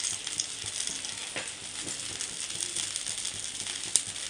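A Bengaluru-style sponge dosa sizzles in a spoonful of oil on a hot pan, giving a steady, close, fizzing hiss with faint crackles and a single sharp tick near the end, no voices.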